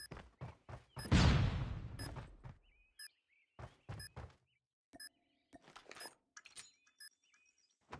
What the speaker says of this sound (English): Flash out!